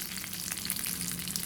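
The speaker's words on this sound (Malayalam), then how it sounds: "ചമ്മന്തിക്ക് കടുക് വറക്കാൻ വേണ്ടി വെച്ചിട്ടുണ്ട് എല്ലാം." Mustard seeds, urad dal and dried chillies fry in hot oil for a coconut chutney tempering, giving a steady, close, busy sizzle with fine crackles throughout and no voices.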